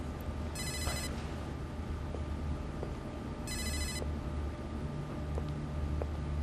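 A telephone ringing in two separate trilling bursts, clear but not loud, over a murmuring background hum, with no talking.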